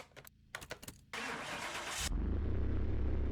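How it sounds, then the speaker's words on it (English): A restored and tuned Volkswagen i4 turbo engine in Car Mechanic Simulator 2021 starts up: a few soft clicks, a short loud cranking burst, then the engine catches and settles into a deep, steady idle rumble. "let's jump in this one and see if that i4 turbo engine sounds any good"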